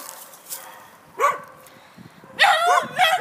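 A dog barks in an outdoor kennel, a couple of sharp yips early on and then a louder burst of barking near the end, with quieter whimpering between.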